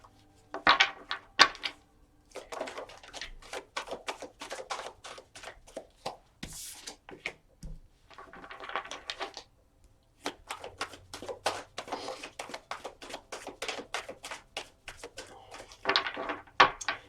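Cards from a Shamanic Tarot deck are shuffled and drawn, giving a long run of quick, crisp riffling flicks and soft slaps, close and fairly quiet, with brief pauses and no talking.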